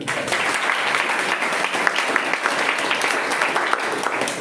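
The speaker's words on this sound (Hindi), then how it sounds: "एक बार तालियां वंदना के लिए।" A room full of people at a college seminar applauds, dense steady clapping that continues evenly for several seconds.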